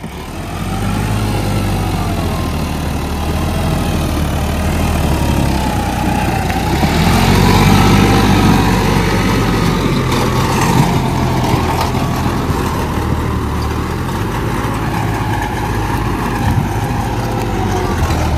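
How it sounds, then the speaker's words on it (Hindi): Loud, steady rumble of three tractor engines, including a Farmtrac 60 and a Massey Ferguson, running nearby, a continuous low chugging drone that swells slightly midway. "तीनों ही ट्रैक्टर चलेंगे"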